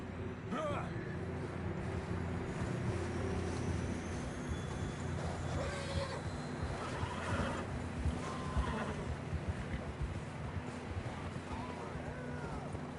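Horse whinnies a few times at moderate distance in the Red Dead Redemption II video game, set against steady wind or ambient rumble with hoof and movement noise, while voices talk.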